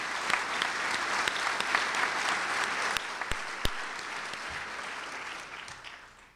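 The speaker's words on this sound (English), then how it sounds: "Let's have a big round of applause for everybody." Audience applause at a civic gathering on San Luis Obispo's economic future, a sustained room-filling clap from a crowd with a few sharper individual claps, fading out toward the end.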